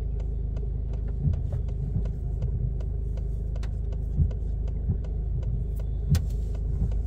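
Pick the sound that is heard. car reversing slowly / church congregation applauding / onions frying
car reversing slowly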